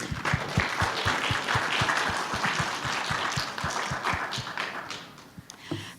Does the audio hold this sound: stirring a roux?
no